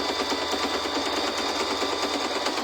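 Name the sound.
sewing machine sewing a straight stitch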